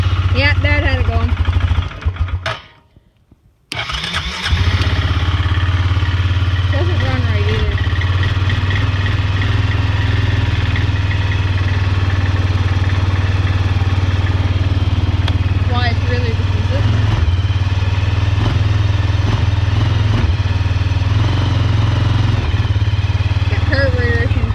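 A small engine, choked for starting, nearly stalls in a brief dropout, then catches and settles into a steady, loud idle that runs on with faint voices in the background.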